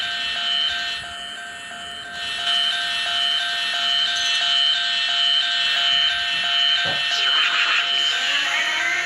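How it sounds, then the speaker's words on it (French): An electronic alarm sounds in a public setting, a continuous steady high tone that holds throughout with faint background noise and voices beneath it. "Cette espèce d'alarme."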